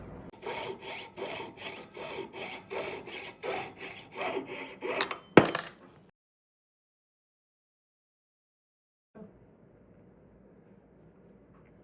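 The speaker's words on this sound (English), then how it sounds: "we're going to be cutting away half the ring essentially and attaching this new piece on" A jeweler's saw cuts through a metal ring to remove half the shank, giving about five seconds of rapid, steady rasping strokes up close. A sharp snap follows, then silence, and a faint low hum starts later.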